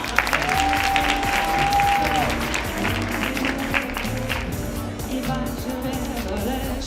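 An audience at an evening of excellence event applauds, a dense, loud, continuous clapping that holds steady for several seconds with faint voices mixed in.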